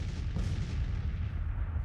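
Point-blank artillery fire in the Civil War strategy game Grand Tactician, a deep rumbling boom with rolling low-end reverberation lasting under two seconds, no voices.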